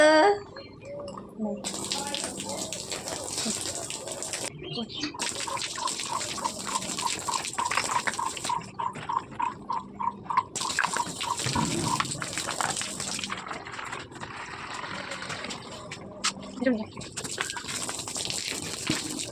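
Tap water runs and splashes into a container being filled, a steady gushing stream that breaks off and restarts several times, with a person talking over it at points.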